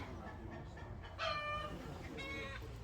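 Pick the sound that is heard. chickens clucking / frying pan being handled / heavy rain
chickens clucking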